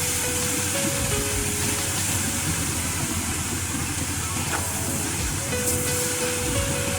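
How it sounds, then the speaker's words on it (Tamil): Grated beetroot sautés in hot oil in a pan, giving a continuous close, even hiss of sizzling that stays steady throughout with no voices. "பீட்ரூட் எல்லாம் எண்ணெயில வதங்கி தரும்"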